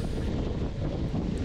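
Strong headwind buffets the microphone during a 2023 mountain bike race on a gravel road, a loud, steady low roar with no voices.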